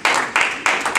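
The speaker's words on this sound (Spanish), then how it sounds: "Yo creo que eso merece un aplauso." An audience at a Spanish-language sales presentation for a bioactive noni drink claps in three short, loud bursts within a second, each burst a distinct wash of hand claps with brief gaps between.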